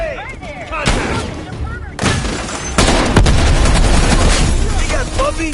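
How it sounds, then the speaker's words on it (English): A grenade explodes amid gunfire in the Call of Duty: Black Ops Cold War video game, loud booming bursts landing one after another while voices shout in the background. "Incoming grenade!"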